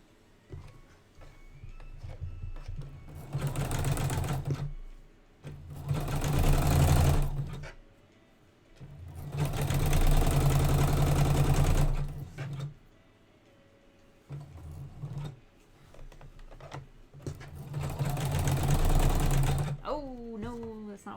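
A sewing machine ruffles a long fabric hem in several bursts of fast, rhythmic stitching, each a few seconds long, separated by pauses with faint handling noise.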